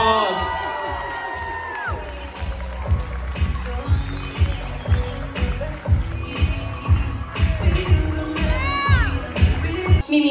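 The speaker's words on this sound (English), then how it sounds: "Everybody please give me a round of applause" Wedding guests cheer and shout for the newlyweds over loud music with a thumping beat, with scattered clapping mixed into the crowd noise.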